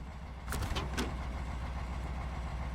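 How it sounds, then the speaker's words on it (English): A truck engine idles in the SnowRunner video game, a low steady rumble running through the whole stretch, with a few brief clunks near the start. "Let me turn off this engine here."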